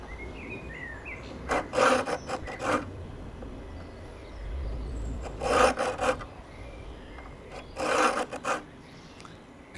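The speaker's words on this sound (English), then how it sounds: "I'm filing the front edge of the tooth leaning away from me and the back edge of the tooth leaning towards me." Hand file sharpening the teeth of a saw, three bursts of two or three short rasping strokes each, with quiet pauses between them and faint birdsong in the background.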